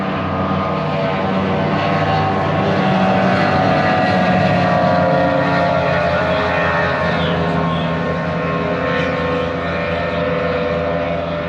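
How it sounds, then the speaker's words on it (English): Two motorboats racing, powerful engines roaring continuously and loudly, a dense droning rumble like speedboats at full throttle nearby, steady throughout with no pauses. "sounds like a boat. Ooh, two boats. Are they racing?"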